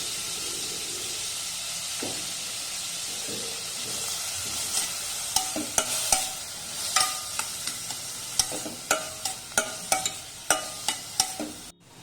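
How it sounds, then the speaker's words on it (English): Finely chopped onions fry in hot oil, a soft continuous sizzle overlaid with clicking spatula scrapes and stirring knocks that grow louder and more regular toward the end. "Now we will have to fry the onions till they are nice golden brown in color."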